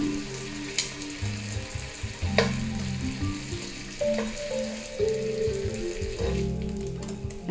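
Steak fries in a hot pan for beef stroganoff, a steady close sizzle with occasional pops and faint stirring and scraping sounds, and no voices.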